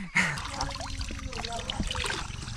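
Natural water trickles and splashes at a waterfall, a close, continuous babbling flow with people talking over it.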